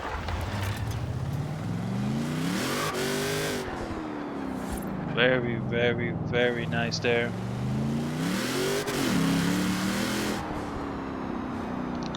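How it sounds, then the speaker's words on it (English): A 2011 HSV GTS in Forza Horizon 4 revs and surges repeatedly, the engine note climbing and falling in several loud bursts, with someone talking over it. "drive it around for a little bit so we can take a listen to the engine there"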